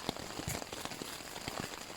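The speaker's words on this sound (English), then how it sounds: "that rain is really coming down now" Heavy rain falls on a hot tent while camping, a dense, steady patter of drops striking the fabric with occasional sharper taps, continuous and close.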